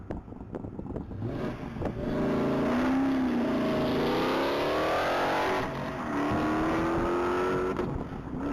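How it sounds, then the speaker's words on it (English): A black 2015 Dodge Challenger RT runs on a top-speed mile track, its engine loud and sustained as it accelerates hard, the pitch climbing steadily through the gears with brief dips between shifts and some wind buffeting. "vehicle 308 is on track. That's going to be Joel Wilson in a black 2015 Dodge Challenger RT"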